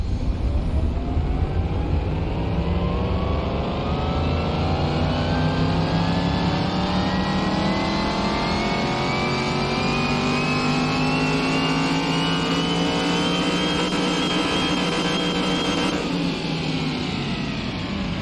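Drag-build car engine in Car Mechanic Simulator 2021 held under load on a dyno, a loud continuous roar climbing steadily in pitch over many seconds before easing off near the end.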